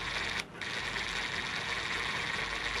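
A DeWalt DCF850 impact driver running at its lowest speed setting, a continuous close mechanical whir with a brief dip near the start, steady and fairly loud, with no talking.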